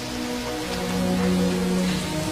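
Steady rain falling on hard surfaces, a dense continuous patter with low rumbling beneath, moderately loud and unbroken throughout with no talk.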